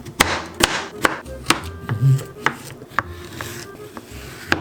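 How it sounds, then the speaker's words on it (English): A knife chops a curved vegetable on a cutting board in a steady series of sharp, close knocks about twice a second, with no talking. "I'll cut the more curved one, because it's harder to cut."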